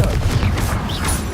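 A Confringo blasting spell from Hogwarts Legacy, a loud, dense rumbling explosion with crackling bursts rolling through a short stretch, close and heavy throughout.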